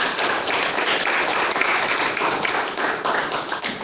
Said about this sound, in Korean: 다시 한번 회장님 큰 박수 부탁드리겠습니다